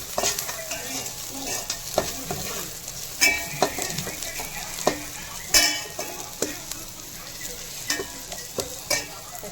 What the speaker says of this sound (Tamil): வெங்காயம் இன்னும் நல்லா வதங்கணும்.